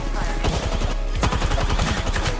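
Cover fire in Apex Legends: rapid bursts of gunfire, dense automatic shots and overlapping volleys firing continuously and loudly from a firefight through the whole moment.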